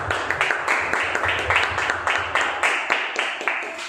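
A church congregation claps loudly and rhythmically in steady, even beats that continue throughout, with a voice briefly heard under the applause.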